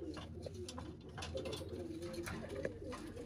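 Pigeons in a pigeon loft coo softly and repeatedly, low throaty calls overlapping in a steady murmur with a few nearer bursts.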